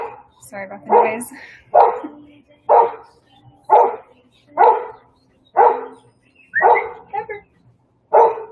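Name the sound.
small dog barking outdoors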